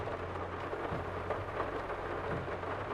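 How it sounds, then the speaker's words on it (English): Heavy rain in Farming Simulator 22, a dense continuous hiss of downpour with a low rumbling undertone, steady and enveloping with no pauses. "This rain is coming down pretty hard"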